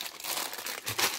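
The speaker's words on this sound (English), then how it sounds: "Then it's just like little mini poly bags." Small plastic LEGO poly bags, including Star Wars, Speed Champions and Friends sets, crinkle and rustle as they are handled nearby, with a steady soft crackle and a brighter burst near the end.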